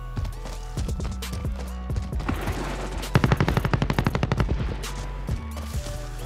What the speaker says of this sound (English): I need to figure out where that shot came from